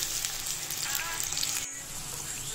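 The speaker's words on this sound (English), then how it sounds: "fry this masala also" Masala for a mutton curry sizzles and fries in a pan with a steady hiss, briefly dipping near the end; no talk is heard.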